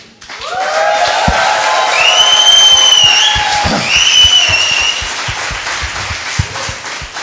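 A crowd gathered for a religious meeting shouts and cheers loudly on request, with rising whoops and yells over scattered claps, sustained for several seconds before easing off.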